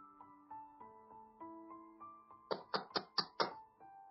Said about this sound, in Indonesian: Terdengar suara ketukan pintu dengan cepat, Melisa mengerjapkan matanya mencari sumber